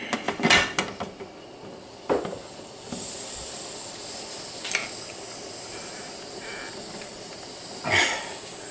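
Steam hisses steadily from the open valve of an old-style pressure canner on a rolling boil, a faint continuous rush with occasional metallic clinks from the pot and lid.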